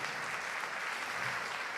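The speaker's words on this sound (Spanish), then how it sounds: "Yo no sé si usted le puede dar un aplauso al Señor por eso esta noche." A church congregation claps together in a brief, even burst of applause, a dense continuous patter heard at moderate distance with no voices standing out.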